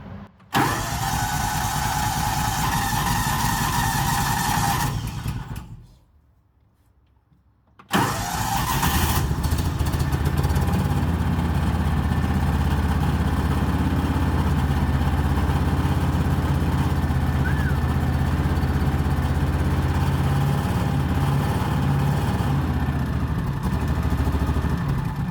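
Engine of a 2003 Kawasaki Mule utility vehicle running rough with a worn bottom end, a loud, close, continuous rumbling drone that cuts out for a couple of seconds and then restarts and runs on steadily.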